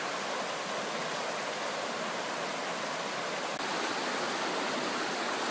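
A river rushes steadily past a bend beside a small one-tent campsite, a loud, continuous broadband wash of flowing water with no voices.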